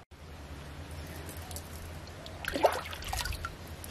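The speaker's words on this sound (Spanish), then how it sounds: "Y ahora lo voy a llenar de agua." Rainwater poured into the cut-off bottom half of a plastic gallon jug, a soft trickling splash that grows louder and busier midway, close by with no talk.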